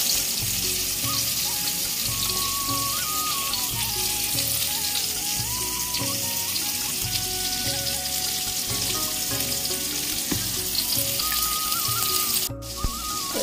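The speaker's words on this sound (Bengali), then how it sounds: "এখানে পটল ভাজা চাপিয়ে দিয়েছি" Pointed gourd (potol) slices fry in a pan, giving a steady, fairly loud sizzle with broadband crackle throughout, accompanied by a low rhythmic pulsing beneath; near the end there is a brief sharp click.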